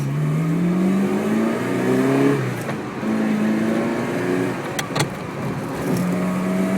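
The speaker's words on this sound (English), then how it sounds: "You can really not only hear the exhaust, of course, you also hear that engine" A 1989 Ferrari 328 GTS engine revs loudly and repeatedly, pitch rising and falling through several throttle blips, with a deep exhaust growl close by.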